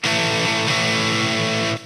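Distorted electric guitar played through the Amp One iOS amp simulator with the mic at the speaker edge, a bright, buzzy sustained chord held loud for under two seconds before cutting off.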